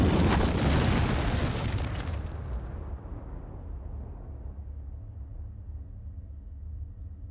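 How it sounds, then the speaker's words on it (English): C4 detonating in Command & Conquer: a loud, broad blast at the start that rumbles and slowly fades over several seconds, with no talk. "The C4 in this device will detonate in 5 seconds."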